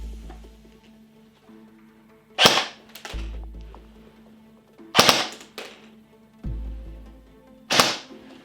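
Three sharp, loud single shots from an AGM Sten MK2 airsoft gun, spaced a couple of seconds apart, each a crisp crack with short clatter and low mechanical clunks between them.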